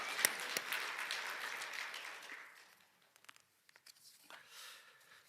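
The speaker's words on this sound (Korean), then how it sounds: "우리 부활하신 주님께 이 시간 박수로 크게 영광 돌리겠습니다" A church congregation applauding to glorify the risen Lord at an Easter service, with soft, distant clapping that fades out midway, leaving a few scattered claps and sounds.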